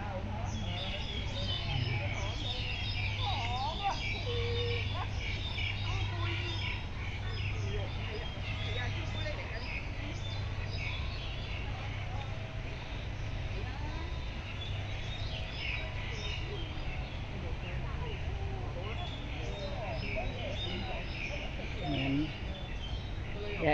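Bird calls from an unidentified species at a waterfront park in Tai Po, Hong Kong, scattered chirps over steady park ambience and low hum, with people talking nearby.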